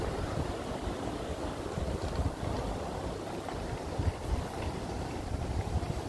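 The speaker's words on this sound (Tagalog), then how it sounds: "tingnan nyo, ang lakas ng hangin." Strong wind at the Umeda Sky Building in Osaka, a loud, steady rumbling gust buffeting the microphone throughout, with no voices.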